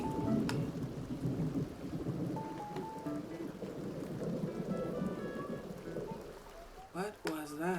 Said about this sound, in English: Pouring rain again